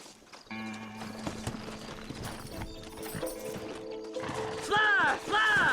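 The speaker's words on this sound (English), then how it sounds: "Horses are over here!" Hooves clip-clop in a busy Red Dead Redemption game soundscape, with horse snorts and a whinny near the end, layered over music and other effects.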